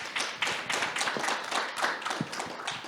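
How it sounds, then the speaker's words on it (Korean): Audience clapping at a disability forum session in Pyeongchang, a brisk, evenly paced run of claps close to the listener with no talking over it. "다시 한번 큰 박수 부탁드리겠습니다"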